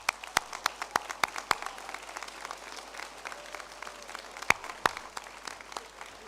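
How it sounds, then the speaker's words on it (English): An audience at a Class of 2023 graduation ceremony applauds in a dense, steady burst of clapping, with a few sharp nearby claps standing out above the crowd. "Clapping is certainly in order for these guys."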